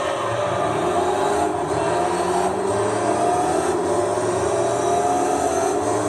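A Pagani Zonda race car in Gran Turismo 3 holds a loud, steady engine roar at sustained high revs, a dense unbroken drone running the whole way with no voices over it.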